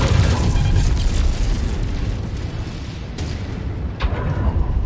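A mech is destroyed and explodes in the video game Mechwarrior 5 Mercenaries. A loud, close, rumbling blast with deep booming low end rolls on and fades, with a couple of smaller pops near the end.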